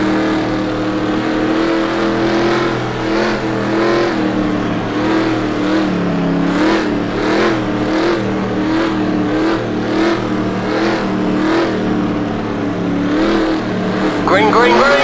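Several race car engines in a racing video game drone and rise steadily as the field takes the green after the pace car pulls in, a continuous loud roar with rhythmic surges throughout.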